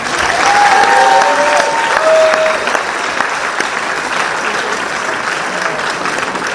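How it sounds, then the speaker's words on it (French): Audience at a cosplay group contest applauding steadily and loudly for several seconds, a dense sustained clapping with faint crowd murmur beneath. "on peut quand même, bien applaudir au nom de l'accessoiriste."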